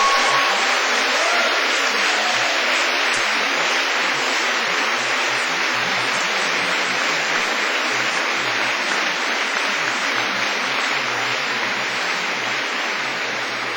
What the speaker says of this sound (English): So please, give them a big wave and an enthusiastic round of applause.